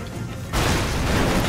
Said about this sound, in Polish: Wiedziałem, że wybuchnie.